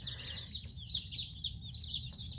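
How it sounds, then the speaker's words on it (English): Baby chicks cheep constantly in a brooder, a dense chorus of high, rapid peeps close by over a low background hum. "I'm sure y'all hear the chicks in the background."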